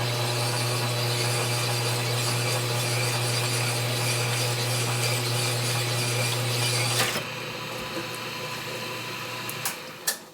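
A power tool cutting a 1947 Harley-Davidson EL knucklehead engine case: a steady, loud mechanical whine with a low hum for about seven seconds, then a rougher grinding with a few sharp knocks near the end.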